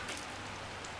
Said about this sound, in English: A nice late November rainy, cold day